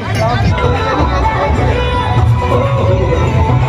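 Crowd of pilgrims jostling in a packed queue at Tarakeswar during the Shravan Monday pilgrimage, a loud, continuous babble of many voices and shouts close around.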